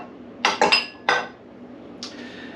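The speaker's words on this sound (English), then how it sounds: "Alright, we're going to add our 3 room temperature eggs." Three room-temperature eggs cracked into a bowl for pumpkin roll batter, giving a few sharp clinks against the rim, then a brief pause and one more softer tap, close up with no talk.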